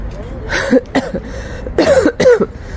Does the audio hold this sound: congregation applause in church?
no